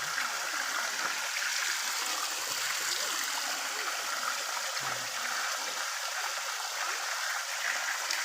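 Clear stream water rushes steadily along a hiking trail, a dense continuous wash of flowing and splashing water close by with no voices over it.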